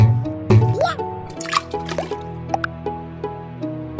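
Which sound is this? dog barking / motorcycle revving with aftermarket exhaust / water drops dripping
water drops dripping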